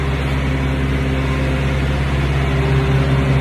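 A refrigerated semi-trailer's reefer unit runs nearby, a loud, steady droning engine hum with strong tonal layers and no pauses.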